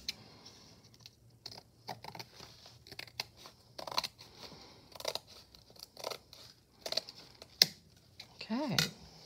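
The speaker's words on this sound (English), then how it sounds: "I'm going to cut this one because it doesn't tear as easily." Scissors snip through a children's book page for a handmade journal, giving a run of short, close crunchy cuts in an irregular rhythm with small pauses between strokes; no one speaks.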